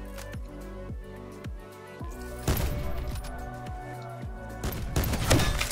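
Black Ops 4 sniper rifle shots ring out in a game match, a couple of loud sharp cracks with reverberant tails standing out over a steady synth music bed.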